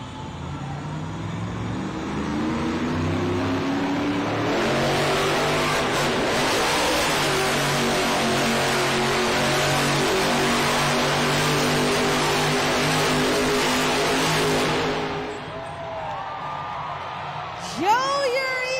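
The monster truck Earthshaker roars on a Monster Jam arena track in Fresno, its engine revving loud and sustained with swinging pitch before dropping off near the end, while an announcer talks over it.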